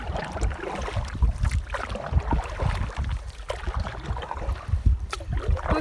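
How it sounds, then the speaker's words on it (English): A canoe paddles across Reagan Lake, with soft rhythmic water splashes and dripping close by over light wind noise, no voices. "this is me paddling on Reagan Lake"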